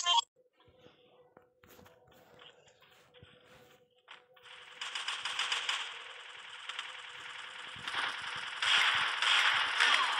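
Gunfire from a shooter game played on a Samsung phone, rapid bursts of shots growing louder and denser over the second half, with players talking over the action.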